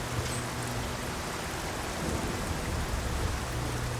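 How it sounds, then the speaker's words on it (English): Steady rain falling outdoors in the video game Nioh, a dense, continuous hiss with low rumbling underneath, heard alone and unchanging throughout. "I think you see the rain outside still, even though I'm inside."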